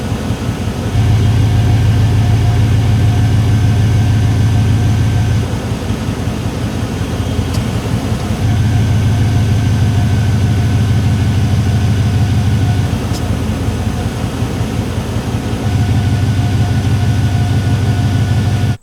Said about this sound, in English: you gotta use this little wire and jump the switch right here to get the compressor to come on